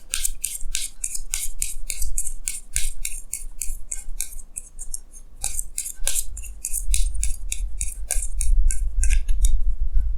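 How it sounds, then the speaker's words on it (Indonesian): Tarot cards being drawn and shuffled from a deck, giving crisp papery slides and flicks in quick bursts, fairly close and alone with no talking. "Jadi sini saya akan tarik lagi 2 kartu tambahan."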